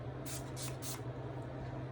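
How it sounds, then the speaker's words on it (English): Three quick, close hissing bursts of All Nighter makeup setting spray onto a face, evenly spaced, over a quiet background. "I'm just gonna spray my face."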